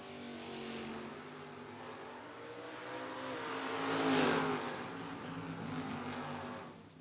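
A Camaro drag race car launches from the tower-side lane of a drag strip. Its engine gives a loud, sustained roar that swells near the middle of the pass and then holds steady, with no voices.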